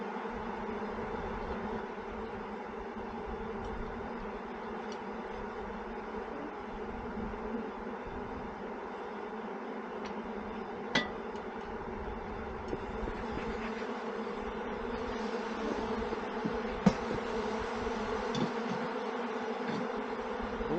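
Honey bees drone in a dense, steady buzz around open hive frames, close and continuous with a few faint knocks and clicks from handling the frames, no talking.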